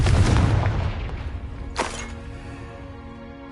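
Fiery Confringo spell blast in Hogwarts Legacy: a heavy booming impact that rolls off, then a second sharp crack and a ringing fade.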